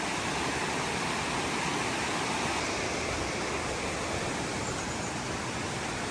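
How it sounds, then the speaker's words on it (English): Garza's Creek rushing through its rocky, fern-lined canyon before feeding the Carmel River, a steady broadband roar of flowing water, constant and fairly close, with no voices. "So this is Garza's Creek Canyon, and Garza's Creek feeds into the Carmel River."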